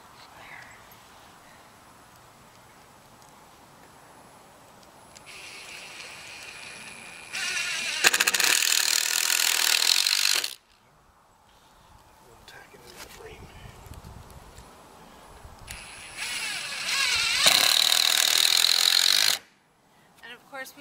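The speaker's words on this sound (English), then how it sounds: "Drill any pilot holes," Power drill boring pilot holes in wood while building a cold frame from recycled windows, two sustained loud whirring bursts of a few seconds each, separated by quieter handling noise and some talk.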